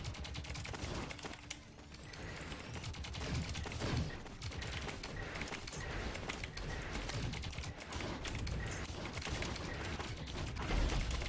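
Rapid gunfire from the video game Code ZIN: Esper Arena, dense bursts of rattling shots over clicky keyboard-like clatter, steady and fairly loud throughout.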